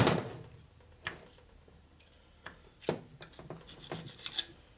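Old gasket material being scraped off 4-speed transmission parts from a 1976 Harley shovelhead, heard as a few separate rasping scrape strokes with quiet gaps between them, no talking.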